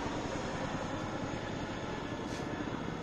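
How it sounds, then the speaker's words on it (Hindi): A steady, broad engine roar from an army helicopter drones overhead without letup at moderate distance, near Chandigarh, with no talking. "it's an army helicopter"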